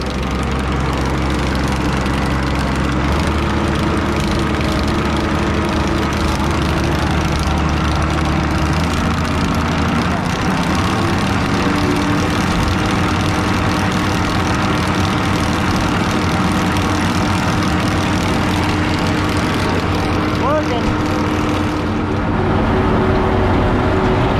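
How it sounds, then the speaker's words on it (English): A farm engine running loud and close, a heavy low rumble that rises in pitch as it revs up, steady throughout with no talk. "Rev it up all the way."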